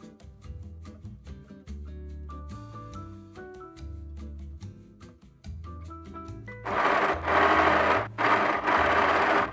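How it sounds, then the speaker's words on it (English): Sewing machine stitching a knit sleeve seam, a steady close mechanical whir that runs in long stretches with brief pauses and grows louder and harsher toward the end. "Now that we have sewn the sleeve"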